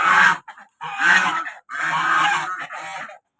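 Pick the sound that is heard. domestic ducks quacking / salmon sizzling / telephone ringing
domestic ducks quacking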